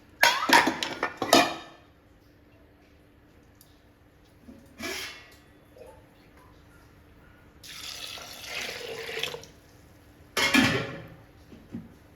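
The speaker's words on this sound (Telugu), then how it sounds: "కొంచెం వేసా వాటరు" Water poured from a tap into a pot of soaked, rinsed toor dal comes in several short splashing bursts, loud at first and then quieter, each separated by pauses.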